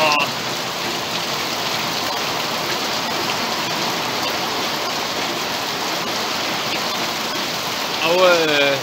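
Heavy rain pours down in a steady, dense hiss that stays loud and even throughout, with a brief voice near the end.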